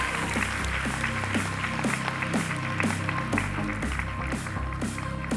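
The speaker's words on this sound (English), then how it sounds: "how about one more round of applause for the amazing Chinelo Añuecu?" Applause for a contestant at the Miss Grand USA finals pageant: a steady, loud wash of clapping from a large audience, sustained throughout with individual sharp claps standing out, and no talking over it.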